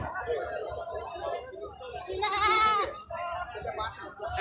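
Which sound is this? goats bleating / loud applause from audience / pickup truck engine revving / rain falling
goats bleating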